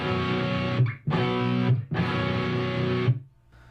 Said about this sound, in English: You take the root, the fifth, and you add the ninth on top.